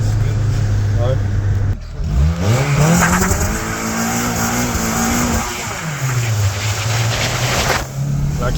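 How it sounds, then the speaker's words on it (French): A car engine revs loud and close, its pitch climbing and falling through hard acceleration with the clutch slipping in second gear, while voices talk over it. "La clutch a de la misère en deuxième"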